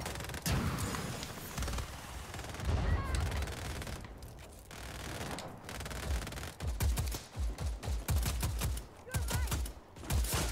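Rapid automatic gunfire rattles through the action video game Just Cause 4, with long loud bursts, sharp individual shots and short gaps between volleys.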